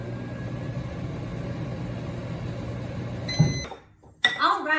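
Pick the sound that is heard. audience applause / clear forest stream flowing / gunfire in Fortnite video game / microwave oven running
microwave oven running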